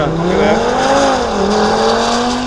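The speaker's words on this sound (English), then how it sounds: "that's launch control on the new TTRS" An Audi TT RS leaps off the line under launch control, its engine note climbing loud and close in one continuous surge of rising revs.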